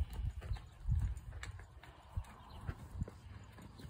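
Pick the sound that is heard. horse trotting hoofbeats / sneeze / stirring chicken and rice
horse trotting hoofbeats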